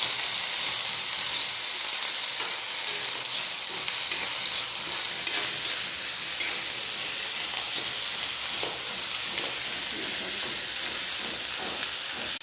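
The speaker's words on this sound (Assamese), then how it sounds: "এইখিনি মই ধুনীয়াকৈ ভাজি থাকিম।" Onion, garlic and chili paste with white mustard seeds fry in hot oil with a continuous loud sizzle and hiss, punctuated by occasional stirring scrapes, no voices.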